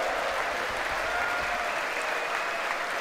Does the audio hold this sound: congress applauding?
yes